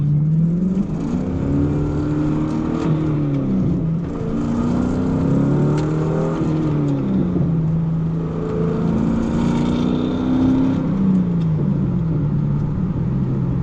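A Chevrolet Corvette in competitive mode accelerates hard on a road in first gear, wheels losing traction; a loud continuous engine drone rises and falls in pitch through repeated revving sweeps, close and steady throughout.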